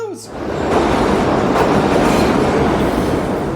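A BART subway train runs on rails during rush hour, making a loud, steady rumble with clattering wheel noise that swells after a brief dip and holds, close and continuous.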